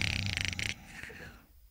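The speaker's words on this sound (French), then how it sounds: "C'est un ronflement qu'on vient d'entendre" Human snoring, a short rough snore with a fluttering, rattly pulse that stops abruptly, leaving a quieter breathy tail. Close and fairly loud, with no talk.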